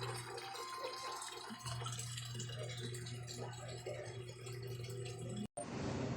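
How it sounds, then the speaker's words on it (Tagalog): Steady running water pours and gushes into a Samsung automatic washing machine tub, a continuous splashing flow with a low hum beneath, briefly cut off near the end. "karga natin ng tubig kasi spin natin yan siya mamaya"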